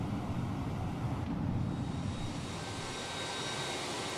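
Engine number 2 of an A321neo in the MSFS 2024 flight simulator spins up to a steady, broadband jet roar that holds loud and even, with no voices.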